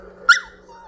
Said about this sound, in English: What are you trying to bark?